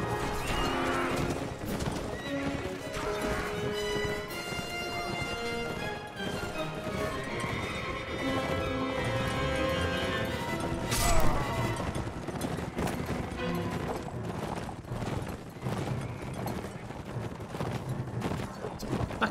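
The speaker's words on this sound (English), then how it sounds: "Horses." Horses gallop and neigh in a video game battle, hooves clip-clopping steadily under a dense layer of music and combat noise, with one louder burst midway.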